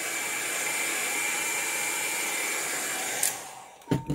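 Heat gun blowing a steady, loud whooshing hum while drying an alcohol ink painting, then cutting off with a couple of brief handling knocks.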